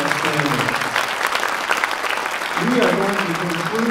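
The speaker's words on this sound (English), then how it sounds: "So would you please give your applause to the organizers of this festival" A concert audience at an all-state school music festival applauds the organizers, a sustained dense patter of clapping with a voice speaking over it toward the end.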